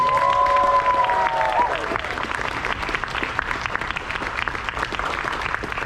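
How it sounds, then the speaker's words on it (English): A convention crowd applauds and cheers for volunteers, with a brief high electronic tone at the start giving way to sustained clapping and scattered whoops that carry on evenly. "one more round of applause for every other volunteer here at Everfree Northwest"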